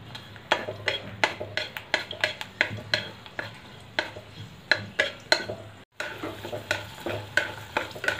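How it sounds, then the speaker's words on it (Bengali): Peanuts and two dried red chillies fry in a little oil while a spoon stirs and scrapes the pan in a steady rhythm of sharp, close clinks. A soft sizzle runs underneath, broken by one brief pause. "অল্প একটু তেল নিয়েছি, এর মধ্যে আমি 2টো শুকনো লঙ্কা ভেজে নেব।"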